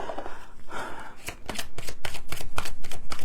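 A deck of playing cards is shuffled by hand, with a quick series of close, crisp riffles and snaps in rapid rhythmic bursts and no voices.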